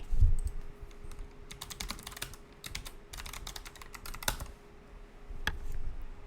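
Keys clatter on a computer keyboard as a command is typed into a node setup, with irregular bursts of close, crisp keystrokes and a couple of sharper key hits over a faint steady hum.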